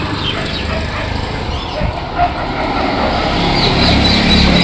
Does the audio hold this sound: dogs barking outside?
yes